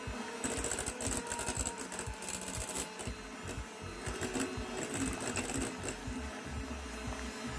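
An electric mixer on medium speed whips a cheese and chocolate cake mixture, producing a continuous close motor whir with rapid rattling beats against the bowl, uninterrupted and without talking.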